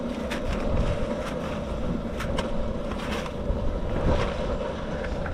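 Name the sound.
wind blowing on a windy day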